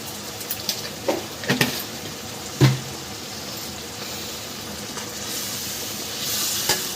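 Masala paste of capsicum, tomato, ginger and cumin with fried onion and garlic sizzling in a pan for egg biryani, a steady soft hiss with a few louder spatters and stirring clatters near the start.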